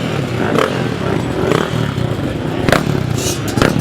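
A Honda motorcycle climbs the hill at a hill climb event, its engine heard at a distance with clattering and revving bursts over outdoor crowd ambience.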